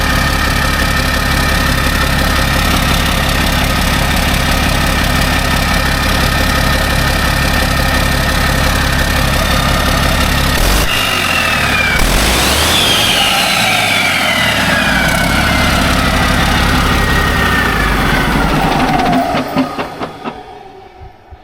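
A Mack truck diesel engine with a smoky number 4 injector idles loudly and steadily up close, its rough rumble joined midway by a shifting whine before the engine winds down and cuts off near the end.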